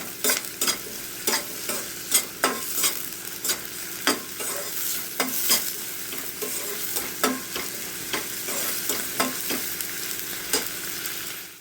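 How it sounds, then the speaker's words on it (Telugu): Two large onions fry in a pan for tomato curry, a constant close sizzle punctuated by regular scraping strokes of a spatula stirring, with no talk. "నేను రెండు పెద్ద ఉల్లిగడ్డలు వేసిన వీటిని మంచిగా ఫ్రై చేయాలి"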